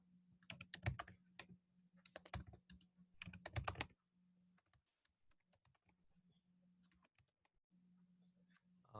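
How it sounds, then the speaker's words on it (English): Keys pressed on a calculator while working a trigonometry problem: rapid clusters of small plastic clicks in three quick bursts, then sparser taps, close and quiet over a low steady hum. "We could type this entire piece into our calculator."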